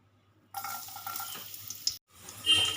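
Chopped garlic dropped into hot mustard oil for a dhaba-style egg tadka: a bright burst of sizzling starts abruptly, fills the pan for about a second and a half, cuts out briefly, then surges louder again, close up.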